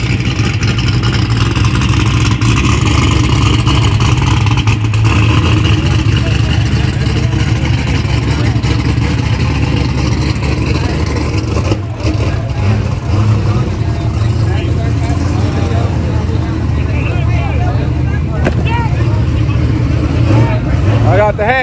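Drag racing cars roar at full throttle down the Yello Belly Drag Strip in 2010, a loud, sustained engine drone close by with voices of spectators talking over it.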